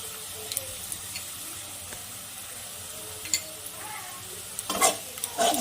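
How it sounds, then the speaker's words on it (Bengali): Spice paste with mustard-poppy seed paste frying in released oil in a pan, a steady low sizzle broken by occasional scraping stirs that grow louder toward the end, close by and with no speech. "এবার আমি মশলাটাকে ভালো করে কষিয়ে নেব"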